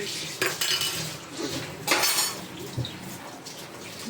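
A spoon stirring cooked rice in a metal pot, with a steady scraping, clinking clatter close by and some water-like background noise.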